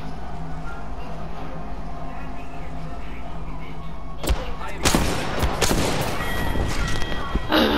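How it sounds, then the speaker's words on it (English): Gunfire in the Apex Legends battle royale, with a sniper involved: a quiet stretch with a low steady hum, then a sudden loud shot followed by a dense run of sharp, close shots and bursts. "gunshots"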